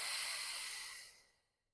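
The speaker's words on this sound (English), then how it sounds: "Long breath out through pursed lips." A long, soft, breathy exhale through pursed lips during a Pilates session, a single close hissing breath out that fades away over under two seconds.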